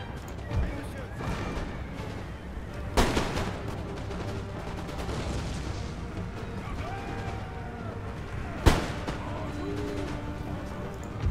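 Musket volleys crack out in Empire Total War, a few sharp loud reports standing out above a dense rumble of distant battle fire and crowd noise.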